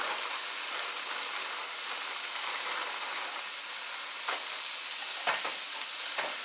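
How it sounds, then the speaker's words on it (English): Mushrooms and vegetables stir-frying in a pan, a dense, even hiss of sizzling oil throughout, punctuated by a few brief scraping stirs near the end, close and with no voices. "you will see, mixing in the mushroom"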